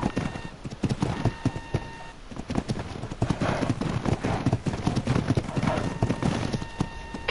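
Horse hooves clip-clop steadily in the video game Ark, a loaded pack horse walking at an even rhythm, fairly close and continuous throughout over faint background game sound.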